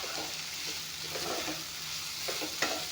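Fish and beans fry in a hot pan, giving a continuous soft sizzle with occasional stirring scrapes and a brief sharper clink near the end, with no voices.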